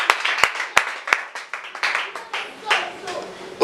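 Church congregation clapping during a worship service, several sharp claps followed by looser, softer clapping, with voices talking over it.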